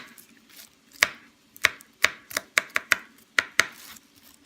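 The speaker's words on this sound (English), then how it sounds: "I'm gonna smash up some garlic and add that to the pot as well." Garlic cloves are smashed and chopped on a cutting board during Instant Pot meal prep, with about a dozen sharp, close knocks at an irregular rhythm and quiet pauses between them.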